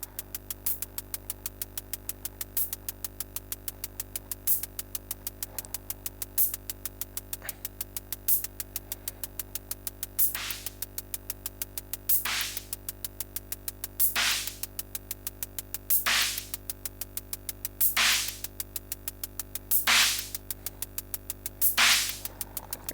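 Synthesized kick drum pattern from a Frap Tools modular synthesizer, recreating the drums of a well-known track with filters excluded: a steady, even pulse of sharp beats, with brighter hits every couple of seconds, over a constant low hum, no voices.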